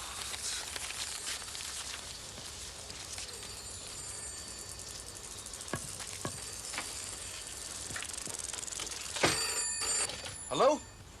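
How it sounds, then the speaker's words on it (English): A telephone rings in a home, its bright electronic trill repeating steadily against a low background hum, with a few knocks and clatters near the end. "that's probably Harry ringing you now"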